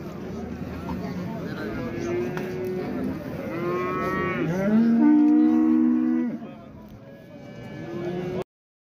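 Cattle moo at a livestock market in Shymkent, with several long, loud, close lowing calls that overlap, rising and falling over a background of steady crowd noise and voices.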